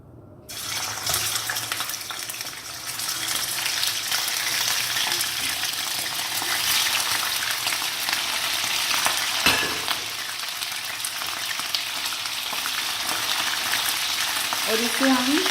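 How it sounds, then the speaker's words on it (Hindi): Chicken pieces frying over a low flame in about half a cup of hot oil in a pan for a karahi, giving a steady, loud, continuous sizzle that starts abruptly and holds throughout with no voices. "और इसे हम लो फ्लेम पे फ्राई करेंगे।"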